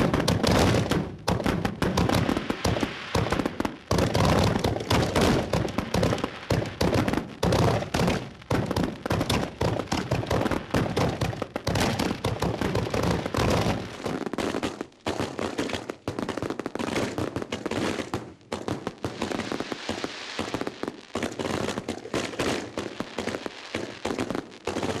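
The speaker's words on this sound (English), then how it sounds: "shooting the fireworks in the sky, shooting the fireworks coming out of the mortars" Fireworks fired from mortars at the Freedom Fair go off in a long, dense volley of booms, thumps and crackles, loud and continuous, with a somewhat thinner barrage toward the end.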